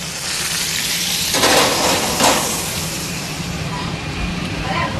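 Pork tenderloin sizzles steadily in a hot pan after searing on both sides, a continuous loud frying hiss with a couple of brief clatters of the pan being handled.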